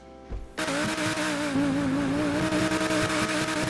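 The Progen Luiva supercar in GTA V Online revs hard after a brief pause, its engine note holding a loud, steady, slightly wavering tone that climbs gently over a few seconds.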